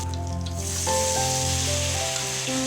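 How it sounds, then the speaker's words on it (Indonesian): Steady crackling sizzle of tempeh frying in hot oil, continuous and close, with a faint low hum underneath. "Goreng tempe di dalam minyak yang panas."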